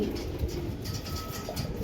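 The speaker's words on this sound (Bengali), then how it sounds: "আজকে আপনাদের একজোড়া কালো পায়রা শখ করাচ্ছি" A pair of black pigeons coo softly and steadily, close by, with a low murmuring texture throughout and no talk.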